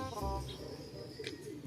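Racing pigeons coo softly in a low, repeated murmur during a hot-day race wait in Tagudin, Ilocos Sur, faint and steady, with light chirps and distant background hiss.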